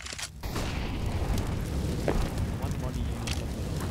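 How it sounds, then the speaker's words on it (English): Grenade blasts in a competitive shooter video game roll out as a loud, sustained rumbling boom that fills the clip after a short lead-in. "Already Chucky taking some points of damage from the nades"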